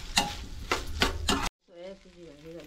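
Veg Manchurian gravy with soy sauce being stirred in a pan, with a few scraping strokes over a faint sizzle, then a brief silence and a softer stretch with a tonal hum.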